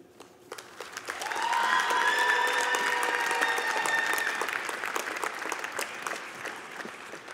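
Sustained audience applause at a 2019 Concordia University graduation ceremony as the valedictorian is welcomed to the stage, rising quickly, holding steady for several seconds, then thinning out into scattered claps.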